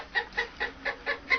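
A novelty animal wall clock shaped like a chicken plays a recorded clucking call, six evenly spaced clucks in quick rhythm, close and moderately loud with no talk.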